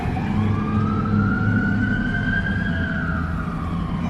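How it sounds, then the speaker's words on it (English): A fire truck siren wails in a long, rising and falling sweep that stays loud and continuous throughout, over steady street traffic rumble, with no talking. "There's a fire truck."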